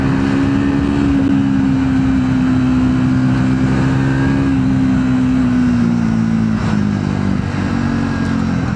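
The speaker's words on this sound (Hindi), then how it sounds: "फर्स्ट गियर में बाइक 50 प्लस जा रही है, सेकंड गियर में 70 प्लस और थर्ड गियर में बाइक 100 प्लस जा रही है" Triumph Speed 400 349cc motorcycle accelerating hard through first, second and third gears, a loud close engine drone rising in pitch and dropping briefly at each shift.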